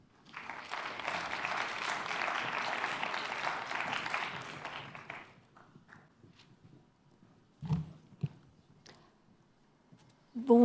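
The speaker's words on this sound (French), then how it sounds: "Donc, vous pouvez les applaudir si vous voulez." Audience applause greets two speakers at a 2020 conference forum. A dense burst of clapping lasts about five seconds, then dies away into a quiet room with a few scattered knocks and shuffles.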